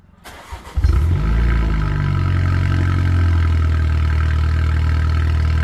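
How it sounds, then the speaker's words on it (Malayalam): A sports car engine cold-starts up close with a short cranking whirr and a loud bark, then settles into a deep, steady, fast idle that runs on alone. "ഒന്ന് കോൾഡ് സ്റ്റാർട്ട് ചെയ്ത് നോക്കാം അതിന്റെ ശബ്ദമൊക്കെ നമുക്കൊന്ന് ഫീൽ ചെയ്ത് നോക്കാം"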